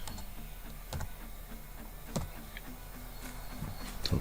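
Soft, irregular key clicks from typing a filename on a laptop keyboard, faint and close, with a quiet hum underneath and no voices.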